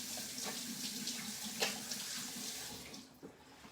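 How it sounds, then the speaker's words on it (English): Hands are rinsed under a running kitchen tap, a steady close splash of water with a few brief louder spatters as the hands move, before the flow fades near the end. "Gonna rinse my hands off."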